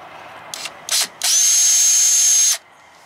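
A power drill runs in two quick short bursts, then bores steadily for over a second with a high whine before stopping, drilling a hole in a Promaster van build. Close and loud.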